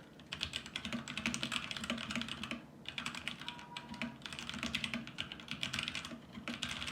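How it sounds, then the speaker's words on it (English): Steady, rapid clicking of keys on a Royal Kludge RK71 mechanical keyboard with brown switches, fairly close, with a brief pause midway before typing resumes. "it's by no means a silent keyboard. It definitely has noise to it."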